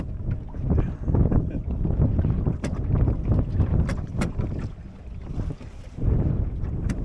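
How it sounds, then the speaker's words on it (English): Strong wind buffets the microphone with low roaring gusts while water splashes against a moving Drascombe Lugger sailing boat on open water, continuous and close. "Boy, it gets windy when you get out here."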